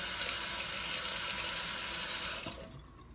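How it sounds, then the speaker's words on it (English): A kitchen tap runs in a steady loud hiss while something is rinsed during homemade pumpkin spice latte preparation, then cuts off abruptly near the end. "Tap that off, and I always rinse it off."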